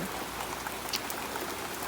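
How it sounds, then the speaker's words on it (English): Heavy rain pours steadily on an Appalachian mountain farm at the start of hay season, a dense even hiss with scattered louder drops spattering close by, with no voices over it. "it just keeps raining harder"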